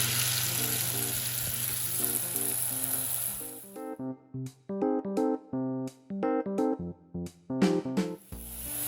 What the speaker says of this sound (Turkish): Tepsimizi koyduk ocağa. Altı tereyağı tereyağlanmıştı zaten. Hamurlarımızı üzerinde. Tereyağını eritmek için biraz çeviriyoruz.